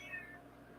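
One faint, brief meow from a house cat sounds at a distance against soft room hum, fading within a fraction of a second.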